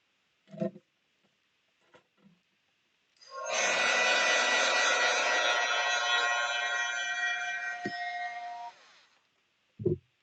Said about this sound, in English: I just used my dryer real quick